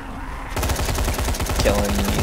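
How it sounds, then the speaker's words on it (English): Rifle fire in the zombie game Dying Light: rapid automatic shots in a fast steady burst right after a quiet start, loud and close, with a voice briefly heard. "I'm gonna burn all of my rifle ammo, which will take a second. Kill some zombies with it."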